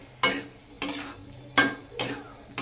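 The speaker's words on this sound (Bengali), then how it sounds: "এবার এটা ভালো করে নাড়বো" A spoon scrapes through chicken curry with potatoes in a pan over a medium flame, five distinct strokes in an uneven rhythm, each a sharp close scrape fading into a faint sizzle.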